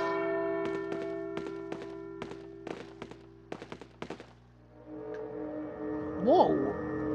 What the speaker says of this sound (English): Is this supposed to ring the bell?